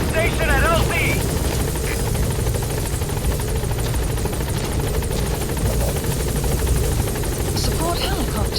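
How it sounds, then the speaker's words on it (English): Support helicopter in the Metal Gear Solid 5 game hovering close by, a loud continuous rotor drone and whine that fills the whole stretch, with brief chirps of radio or interface sounds on top. "Support helicopter has arrived."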